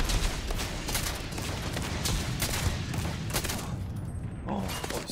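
Sci-fi gunfire in the video game Starfield, including a sniper rifle, crackles in dense rapid bursts throughout, loud and continuous, with a short lull near the end.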